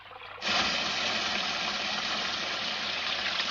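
Water gushes steadily from a running tap, starting abruptly after a brief quiet moment and continuing loud and constant without pause.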